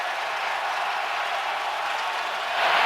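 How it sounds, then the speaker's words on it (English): A stadium crowd at an NFL game, Raiders at Titans, roars steadily in a continuous broad wash of cheering as fans urge on the defense before a third down, swelling slightly louder at the end. "Crowd on its feet, urging on the defense here on a 3rd and 15."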